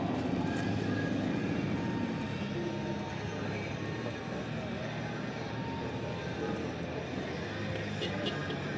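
Race planes fly in an air race in Thailand, making a continuous, fairly distant engine drone that holds steady throughout, with faint background voices.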